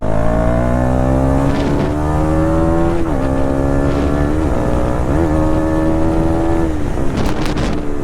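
A KTM 390 motorcycle engine revved hard and loud, close up, climbing in pitch through several sharp throttle blips and dropping back between them, with a rough mechanical edge.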